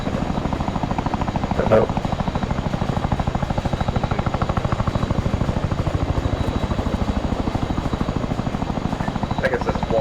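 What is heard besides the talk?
Chinook helicopter in the video game Arma 3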